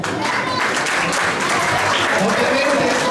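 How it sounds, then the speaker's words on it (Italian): Audience applause at a World Environment Day award ceremony in Corleone, steady and loud dense clapping throughout, with crowd murmur and voices mixed beneath it. "Un applauso!"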